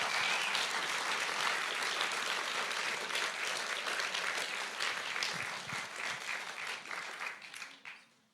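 An audience at a talk on resilience in Nelson applauds a panel with steady, dense clapping that holds for several seconds and then tapers away.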